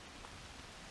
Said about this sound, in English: Might be able to hear that rain coming through the trees